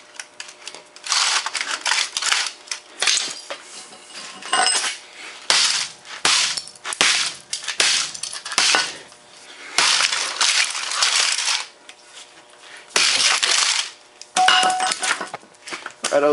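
A glass hard drive from a Compaq Presario F500 laptop is smashed, with repeated sharp crunching and shattering bursts in irregular clusters, loud and close, separated by brief pauses.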